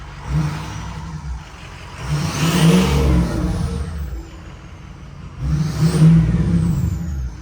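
A Ford 6.0 Powerstroke diesel fitted with a 5-inch MBRP exhaust revs up twice, each rise in engine pitch swelling loudly and then falling back to idle, heard up close with no one talking.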